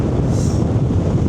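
Strong wind roaring and buffeting the microphone in a continuous rush, with a faint watery wash underneath; no one speaks.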